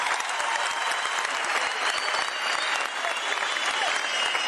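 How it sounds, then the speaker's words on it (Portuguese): An audience at a live comedy show claps in a dense, even wash of applause that holds for several seconds, moderately distant and unbroken by speech. "Mais uma salva de palmas para a mão do céu,"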